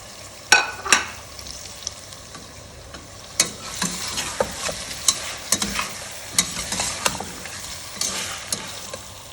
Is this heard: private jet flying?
no